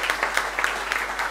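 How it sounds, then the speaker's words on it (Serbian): Audience applause at a public forum in Valjevo: a short burst of steady, dense clapping from a room of people, moderately loud, with no voices over it. "iza njega aplauz"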